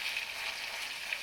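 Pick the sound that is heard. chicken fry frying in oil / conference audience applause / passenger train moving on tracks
chicken fry frying in oil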